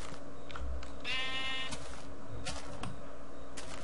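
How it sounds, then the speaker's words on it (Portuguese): Sheep bleat in the Minecraft video game, one wavering bleat standing out clearly over a steady background of game ambience and faint clicks. "Bom, tem ovelhas ao meu redor."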